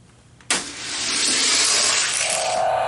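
Hot Wheels die-cast cars, a Ford Mustang and a Ferrari F50, race side by side down a downhill track, a sharp clack at release followed by a sustained rising plastic rolling rush that holds to the end.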